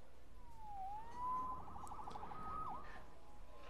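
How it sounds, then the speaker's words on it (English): A police siren wails faintly in the distance in Spider-Man Remastered. Its long rising and falling tones sweep over a low ambient hum, with no voices. "Saved by the siren."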